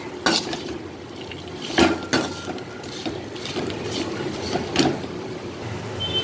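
Metal spoon scraping and clinking against a pan while stirring a raw banana stir-fry with chilli powder, several irregular strokes close up under a faint background hiss, no talking.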